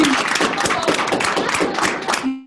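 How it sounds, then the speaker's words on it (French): An audience at an acting workshop claps in a dense, loud burst of applause lasting about two seconds, then it cuts off abruptly with a brief voice at the end. "On va l'applaudir."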